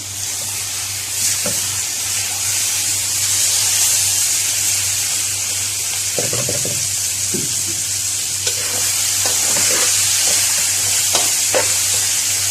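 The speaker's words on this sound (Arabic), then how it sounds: "هنشوح بقى اللحمه مع البصل والثوم" Minced meat fries with onion and garlic in a pan, giving a steady, bright sizzle throughout, with occasional scraping and stirring knocks from a utensil, and no talking.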